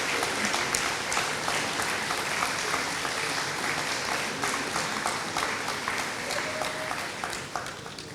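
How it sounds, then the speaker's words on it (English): Audience at a school commencement ceremony clapping for faculty, past and present, a sustained roomful of hands with crisp individual claps poking through, fairly loud and continuous before easing slightly near the end. "Clap, quick clap."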